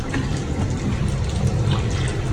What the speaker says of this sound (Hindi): इसके बाद हमने इसके अंदर डालना है पानी।